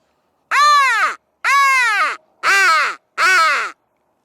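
Four harsh crow caws from a decoy caller imitating a distant crow, evenly paced in a steady series.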